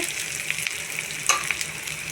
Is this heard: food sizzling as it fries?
yes